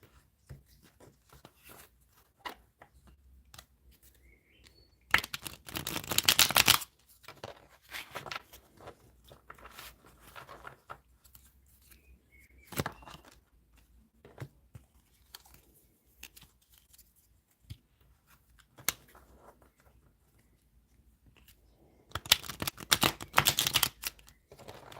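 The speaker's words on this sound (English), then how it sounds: "We'll do a few shuffles." Tarot cards are shuffled in a few soft, close bursts of riffling and slapping, two louder flurries standing out amid quiet rustles and pauses.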